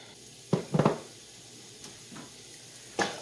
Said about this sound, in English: I'm just going to saute my mushrooms for about 2 to 3 minutes until they start to soften a little bit